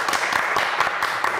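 A television studio audience claps for a prize winner in a dense, even burst of applause, close and loud, with no voices.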